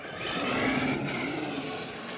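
Traxxas Summit RC rock crawler fitted with X-Maxx tires and a brushless motor, driven in rear wheel drive: a continuous whiny motor hum with faint tire rumble, steady and moderately close, no voices.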